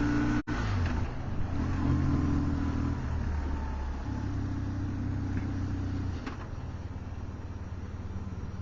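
A new motorcycle rides through San Francisco traffic, a steady close engine drone that shifts pitch as it speeds up and settles, with a sharp bump early on and the note dropping lower near the end.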